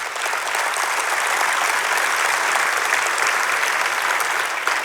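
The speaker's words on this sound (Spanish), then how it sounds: "Dáselo fuerte el aplauso." A church congregation bursts into loud, continuous applause during a worship service, a dense, close and even roar of clapping that holds steady throughout.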